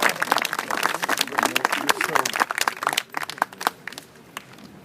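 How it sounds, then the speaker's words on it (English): Scattered applause from wedding ceremony guests, a burst of hand claps that thins out after a few seconds, with some talk mixed in. "I guess we should give him a round of applause."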